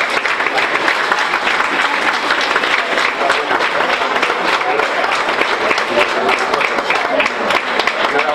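Sustained audience applause at a Graus town festival presentation as a commemorative plaque and bouquet are handed over, steady dense clapping filling the whole stretch at full, even loudness.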